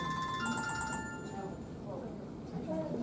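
Repeating electronic mobile phone ringtone sounding during a public meeting, a bright melodic chime in the first second or so, moderately faint, with people talking around it.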